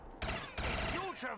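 Gunfire in Black Ops 3 Zombies with explosive weapons: two sharp, loud bursts of crackling shots in quick succession, with people talking and reacting between them.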